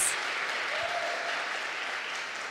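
A church congregation claps together in sustained, even applause, with a dense wash of hands filling the room at moderate volume and no clear breaks.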